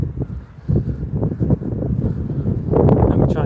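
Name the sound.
wind blowing on the coast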